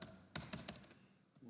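A computer keyboard is tapped in a quick run of about six keystrokes, close and fairly quiet, followed by a faint trailing click.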